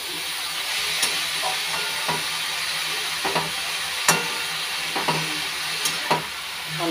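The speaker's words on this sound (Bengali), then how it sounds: "এখন এটা ভাজা ভাজা হবে" Pumpkin greens and rice with salt and turmeric fry in a pan, a soft steady hiss broken by scattered clicks and scrapes of a utensil against the pan.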